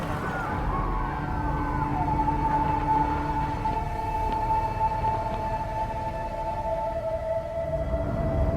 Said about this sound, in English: by the sounds of like all the sirens, it's clearly not good